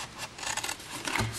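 Scissors snipping through paper cardstock for a box-making craft, a short close run of crisp cutting strokes with a rhythmic rasp, heard alone with no talking.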